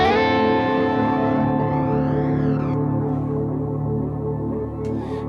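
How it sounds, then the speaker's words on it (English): A single strummed electric guitar chord rings out through a BOSS GT with a Plexi-style British stack tone, its oscillating delays swelling and warbling in a long, loud, reverberant sustain. "So I'm just going to strum a chord."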